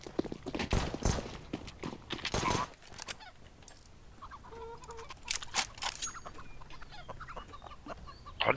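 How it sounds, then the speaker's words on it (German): Chickens cluck in the CS:GO video game amid clattering footsteps and gameplay noise, the clucks scattered and fairly close, with other sounds loud early on. "Diese Gockel, ey."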